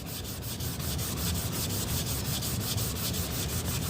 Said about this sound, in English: Kind of sanding with the grain.